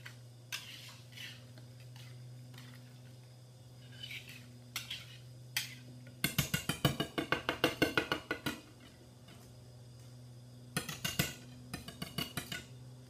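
A spoon stirs sweetcorn fritter batter in a bowl, with quiet clinks at first, then a fast run of rhythmic metal-on-bowl scraping and tapping, a pause, and a second shorter burst of stirring over a low steady hum.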